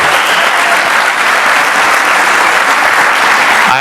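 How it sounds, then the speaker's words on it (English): A hall-of-fame evening crowd at a high school claps steadily for the master of ceremonies, loud, dense and unbroken throughout with no voices on top. "Let's give Mr. Danberger a round of applause."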